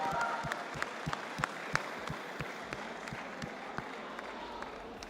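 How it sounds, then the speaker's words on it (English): A crowd at an Intel Gamer Days LAN fest applauds cosplayers, a steady wash of clapping from many hands with a few sharper nearby claps and faint voices mixed in, continuing throughout at moderate level. "Let's just give all of the cosplayers a big round of applause for all their efforts."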